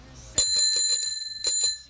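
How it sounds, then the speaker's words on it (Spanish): A bicycle bell rings out loud and close in two quick bright bursts, each a run of rapid metallic dings with a ringing tail. "para que puedan dar el aviso, tienen su bocinita, su timbre"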